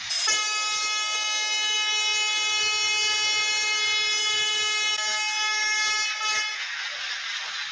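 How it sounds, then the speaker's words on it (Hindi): A sustained, loud train horn in a train simulator game blares steadily for several seconds, a rich multi-tone chord that cuts off near the end, with no voices. "तो भैया पहला हम लोग हॉर्न ब्लो करते हैं।"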